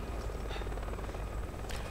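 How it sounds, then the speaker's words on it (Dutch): A helicopter in the Resident Evil 6 video game drones with a loud, continuous rotor thrum and engine whine that fills the whole stretch without a break. "Daar hebben we de helikopter weer."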